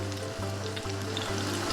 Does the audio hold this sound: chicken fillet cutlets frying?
yes